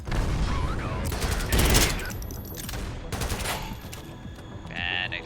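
Rapid bursts of gunfire from a gun in the video game Synthetik, loud and close, with sharp repeated shots, a mechanical reload-like clatter and a brief electronic tone near the end.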